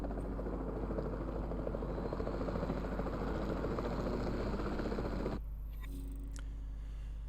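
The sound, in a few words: capture team helicopter flying in Jurassic World Evolution 2 video game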